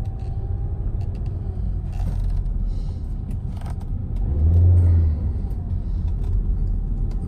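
A 2015 Hyundai Accent Blue with a 1.4 automatic engine rumbles steadily, then swells into a brief low revving surge before settling back to an idle-like hum, with no talking.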